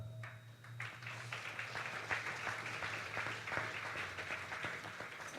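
An audience at a Shri Ram Katha gathering in New Zealand applauds, a steady patter of many hands clapping, fairly faint and distant, running on without a break.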